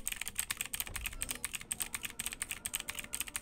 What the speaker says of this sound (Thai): เสียงคีย์บอร์ดผมแปลกมากเลย